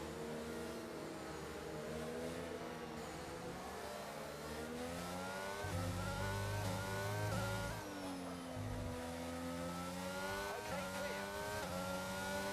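Formula 1 race cars in the F1 22 video game accelerate together at a race restart, a steady dense engine whine with rising and falling revs, louder for a couple of seconds midway, and faint talk underneath.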